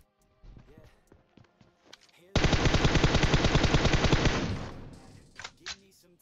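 Burst of rapid automatic gunfire in the PUBG Mobile battle royale game near the sniper tower zone, a loud sustained volley of about two seconds amid quieter footsteps and clicks before and after.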